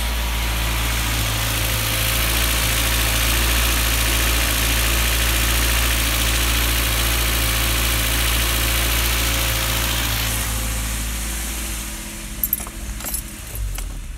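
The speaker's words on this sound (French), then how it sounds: "Alors le ventilateur s'est mis en route" A Renault Clio 2 idles with its radiator cooling fan running, a steady low engine drone under a constant whirring hum for most of the stretch, then fading toward the end with a few small clicks.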